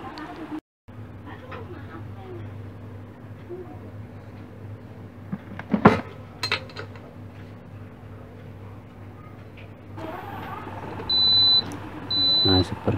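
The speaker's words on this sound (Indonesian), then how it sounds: "magicom atau tempat masak nasi yang problemnya setiap memasak ditekan start selalu error E2" A Yong Ma rice cooker with an E2 error gives two short, high electronic beeps near the end, following scattered clicks and handling noise over a steady low hum.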